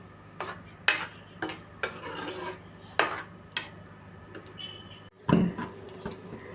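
A prawn and ridge gourd curry is stirred in a pan with a spoon, giving a run of irregular scraping and clinking knocks against the metal, moderately close with quiet gaps between strokes.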